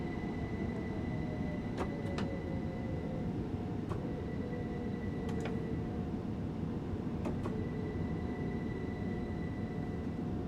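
Electric multiple unit running on third-rail contact power in a train simulator, with a steady low rumble and hum throughout and a few brief high tonal squeals or chimes recurring at intervals.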